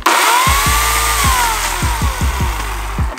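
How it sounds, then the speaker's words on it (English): A loud, close chainsaw engine roars steadily for several seconds, its pitch rising and falling as it revs, ahead of cutting into a supposedly unbreakable box. "so of course I got a chainsaw"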